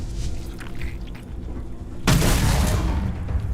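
Weapon fire in the Starfield video game: low rumbling energy bursts, then a sudden loud blast kicks in midway and holds as a dense roaring barrage close up.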